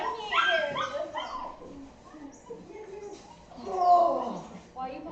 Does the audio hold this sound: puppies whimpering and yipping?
yes